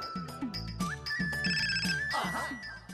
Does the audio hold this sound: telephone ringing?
yes